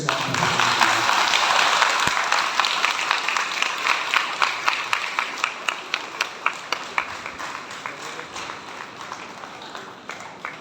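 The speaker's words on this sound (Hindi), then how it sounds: "आइए हम बधाई स्वरूप उनको ताली बजा करके" Wedding guests clapping for a newly married couple: scattered applause swells loudly at first, then settles into rhythmic clapping in unison that gradually fades.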